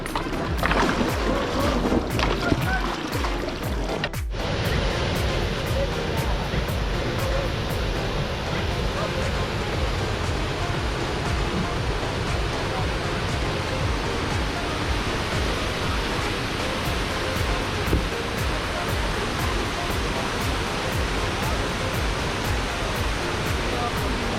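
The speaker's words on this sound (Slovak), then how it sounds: "Búrlivá rieka." A turbulent river rushes in a continuous broad roar on a motorcycle trip through Bosnia and Croatia, steady and close, with a brief clatter near the start.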